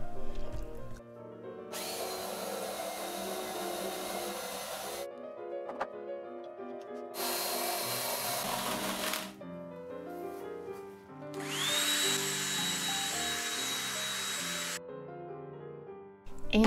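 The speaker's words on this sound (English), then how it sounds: "I'm drilling at the slide angle, trying to follow the angle of the sides to about halfway through" Hand drilling into a solid wooden mallet head at an angle, several loud sustained bursts of a power drill with pauses between them and clear pitch changes as the bit bites.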